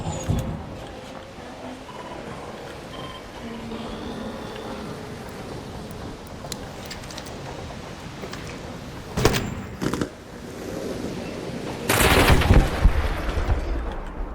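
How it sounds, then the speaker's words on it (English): Cluster munition blasts in the video game ARC Raiders, a rumbling backdrop of game ambience broken by a few sharp, loud bursts and a heavier, longer explosive barrage near the end. "we just hit it with a big cluster munition"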